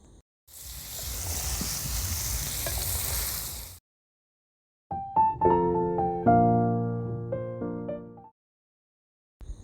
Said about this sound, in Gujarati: ઘીને એકદમ નોર્મલ ગરમ થવા દેવાનું છે અને એમાં આપણે પનીરને ફ્રાય કરવાનું છે